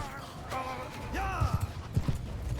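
Horse hooves clop in Mount & Blade II: Bannerlord, several distinct thudding steps in an uneven rhythm over the second half, close by, heard beneath someone talking.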